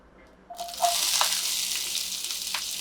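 Chopped medium onion dropped into hot oil with cumin in a pan, bursting into a loud steady sizzle after a brief quiet moment, with a few small crackles and pops, no talk.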